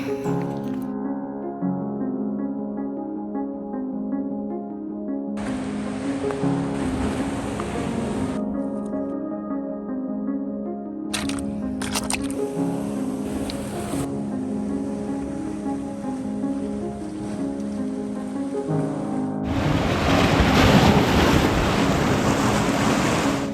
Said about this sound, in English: at high tide, the waves crash over into these baths